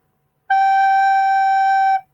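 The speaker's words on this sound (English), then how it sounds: "the more fingers you add, the easier it is to squeak." A recorder gives a single loud, piercing high squeak from being blown too hard, a steady shrill tone held for about one and a half seconds, then it stops.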